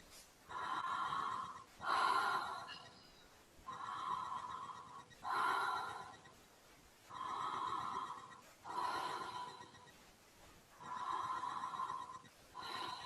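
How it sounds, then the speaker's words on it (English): Slow, deep breathing in and out through an open mouth, with about eight airy, rasping breaths in an even rhythm close to the microphone and no pauses between inhale and exhale. "begin to breathe in and out through your mouth"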